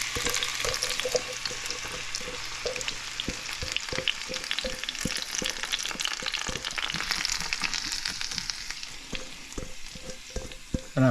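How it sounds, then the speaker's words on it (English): Aromatics sauté in hot oil for a breakfast of smoked herring fillets, giving a steady, close, loud sizzle with occasional clicks and stirring taps throughout. "Now that my oil is heated and making all sorts of sounds here, we just put all these aromatics in here."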